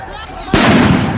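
A crude country bomb goes off in political street violence in West Bengal, a single loud, sharp blast that cuts in abruptly after a brief lead-in and leaves a dense, roaring wash of noise.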